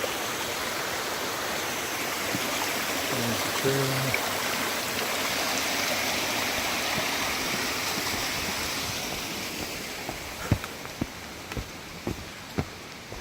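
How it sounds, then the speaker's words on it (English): Small waterfall beside a hiking trail near Mowich Lake on Mount Rainier, a steady broadband rush of falling water filling the scene throughout, with a brief spoken remark and a few footstep-like knocks near the end. "Kind of one of these little waterfalls we're coming across here."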